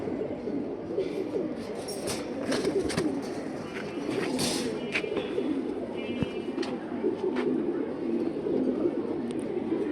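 Pigeons coo steadily in a loft, a dense mid-level murmur of overlapping calls with scattered sharper sounds, continuous throughout and close to the listener.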